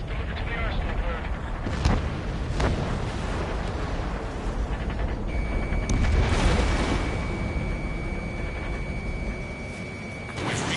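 A supply ship explodes in Ace Combat 7, a deep rumbling boom with bursts and crackling debris swelling over a dense roaring battle din, voices talking over it.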